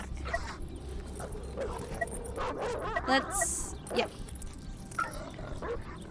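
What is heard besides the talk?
dogs barking and whimpering in the video game Bunny Hill Horror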